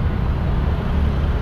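Street traffic on Ligarda Street, a steady dense rumble of car and bus engines heard from close by, continuous and fairly loud without any talk.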